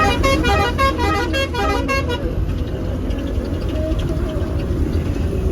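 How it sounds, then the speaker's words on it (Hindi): Buses on a hill road in Dadeldhura, far western Nepal, sound a rapid string of musical horn toots up close, then give way to a steady engine drone and road noise. "अभी इन तीनों बसों में काफी तगड़ी रेस चल रही है।"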